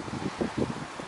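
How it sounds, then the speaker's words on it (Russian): Strong gusty wind blowing in the open in Golling, Austria, roaring broadly in repeated surges with rumbling microphone buffeting and no voices. "Вот посмотрите, какое ветрище."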